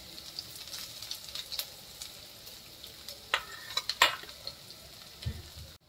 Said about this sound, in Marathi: चांगलं भाजून घेऊया